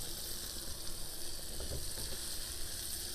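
Peppers added to a hot pan give a steady, soft sizzle of frying throughout, faint and continuous with light stirring noises and no speech.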